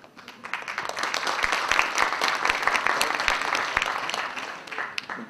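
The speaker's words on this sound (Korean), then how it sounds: "뜨거운 박수로 환영해 주시기 바랍니다" Audience applause at a symposium welcoming distinguished guests: steady, dense clapping from a hall crowd sustained throughout, with a faint voice underneath.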